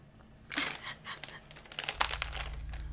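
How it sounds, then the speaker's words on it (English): A cat paws at a dropped treat bag on the floor, making bursts of close, crisp crinkling and rustling that come and go irregularly, with a low hum running under the later part. "I dropped the treat bag on the ground. She's trying to break it open with her paws."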